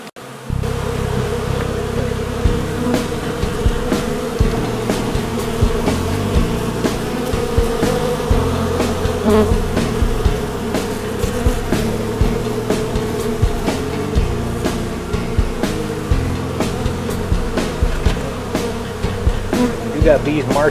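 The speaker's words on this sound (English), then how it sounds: "We got bees marching up the side." Honeybees swarm around a box, their dense, steady buzz filling the air loudly and continuously, close to the microphone, with occasional clicks and knocks underneath.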